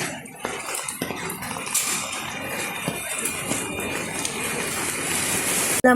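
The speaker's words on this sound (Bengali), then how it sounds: "দেখো বৃষ্টি কাকে বলে, এত বৃষ্টি যে কি বলবো" Heavy monsoon downpour pours steadily outdoors, a dense, loud wash of rain with no break, close and continuous for the whole stretch.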